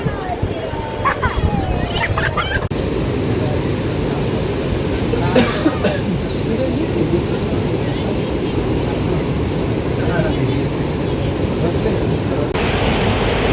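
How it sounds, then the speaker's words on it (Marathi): A steady, loud roar of heavy rain fills the whole stretch, dense broadband hiss with a deep rumble, and a few faint calls briefly cutting through. "पाऊस"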